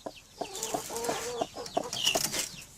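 Chicks hatching in an incubator on day 21: peeping and clucking in quick repeated calls, fairly close, with a few sharper high chirps toward the end.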